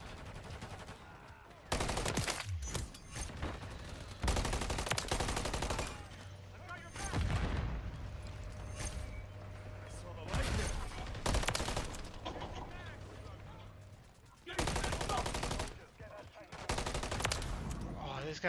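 Repeated gunfire bursts in Call of Duty MW3, loud sharp blasts arriving in irregular clusters with brief gaps between, mixed with game noise and occasional voices.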